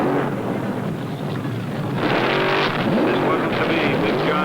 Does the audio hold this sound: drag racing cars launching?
yes